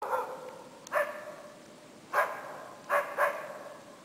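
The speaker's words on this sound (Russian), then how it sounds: "Ну разорался, видишь, он лося первый раз увидел и со страху лает" A dog barks in fear at a wild moose outdoors, giving four or five sharp, mid-distance barks in irregular bursts with quiet gaps between them.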